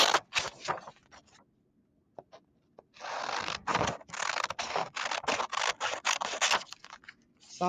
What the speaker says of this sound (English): I'm going to cut out on the solid lines